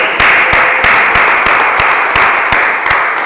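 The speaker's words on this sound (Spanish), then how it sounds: "Vamos a un fuerte aplauso a Cristo." Church congregation giving Christ a loud, sustained round of applause, dense clapping with a few sharp accents throughout, close and alone.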